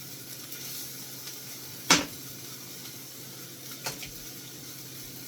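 Frozen mixed vegetables from a cheap bag sizzle steadily in a pan, a soft continuous hiss with a sharp clatter near the middle and a smaller knock later.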